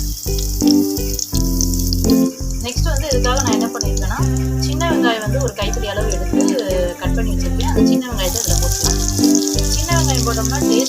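Green chili dropped into hot oil with mustard seeds sizzles and crackles loudly and steadily, close by, under ongoing music.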